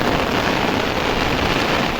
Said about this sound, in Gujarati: વરસાદ તમે જોયો કેવા ભૂકા કાઢે છે